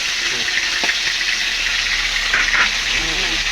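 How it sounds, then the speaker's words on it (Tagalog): Fish (torsilyo) frying in a pan, a steady crackling sizzle of hot oil, close and continuous, with a voice speaking faintly at moments. "Oh, pritong isda. Torsilyo yan, guys."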